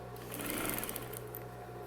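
A sewing machine runs steadily, stitching a seam that joins two fabric pieces of a bathroom set, a continuous close whir with a fine rapid needle patter and no talk over it.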